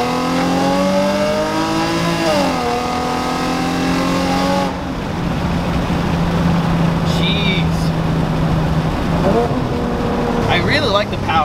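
Loud engine and exhaust of an Infiniti G37 Coupe, with rising and falling revs, gear shifts and a steady drone while driving, and someone talking over it.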